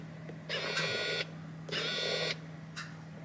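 A Husqvarna Designer Brilliance 80 sewing machine powers up, giving two bursts of bright electronic whirring and chiming tones, each about three-quarters of a second long, plus a brief fainter third one, over a steady low hum.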